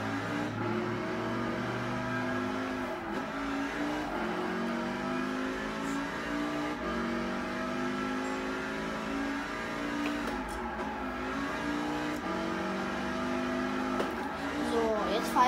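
A car rounds a curve on a bridge in the PS4 racing game Gran Turismo, its engine droning and shifting pitch steadily throughout while someone talks over it.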